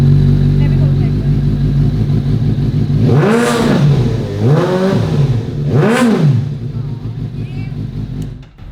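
A Suzuki GSX-S 750 motorcycle fitted with a Scorpion exhaust idles loudly nearby, then revs in three sharp throttle blips that rise and fall, with the steady rumble carrying on between them.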